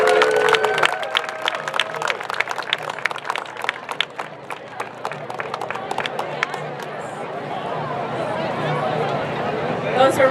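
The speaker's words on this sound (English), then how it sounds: "Another round of applause for all our guests." Festival audience applauding speakers, a dense wash of clapping that swells into broad crowd noise with cheers and chatter, loud and sustained.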